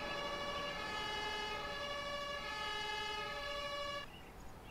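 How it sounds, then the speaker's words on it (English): Fire engine siren in the emergency-services strategy game Emergency 2016, a sustained steady electronic tone, moderately faint, holding for about four seconds before cutting off. "Don't know what era that fire engine is."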